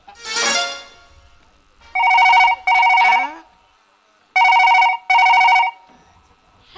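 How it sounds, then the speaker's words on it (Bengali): A telephone ringtone sounds on an outgoing call, two paired bursts of ringing with a short gap between pairs, loud and close, following a brief stretch of talk at the start. "ফোনটা করা যাক।"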